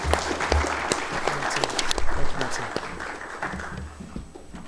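An afternoon audience at a community reading event claps for welcomed guests, steady crowd applause swelling briefly and then tapering off over a few seconds.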